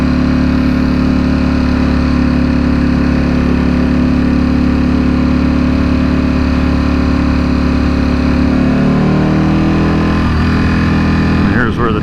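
2021 Ducati Superleggera V4 motorcycle idling in neutral, a loud, steady close-up engine drone with a low throb that shifts pitch near the end as the revs change.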